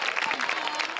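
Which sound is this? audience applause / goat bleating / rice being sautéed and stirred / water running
audience applause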